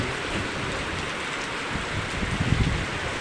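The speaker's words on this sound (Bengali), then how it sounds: "দেখেন কিভাবে বৃষ্টি হচ্ছে।" Rain falls hard and close in a constant roaring patter of drops hitting surfaces, steady throughout with some heavier low thuds near the end, and nobody speaking.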